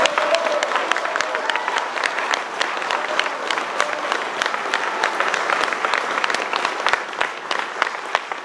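Audience applause at a concert of a group, sustained dense clapping from a large crowd throughout, steady and close, with faint voices mixed in.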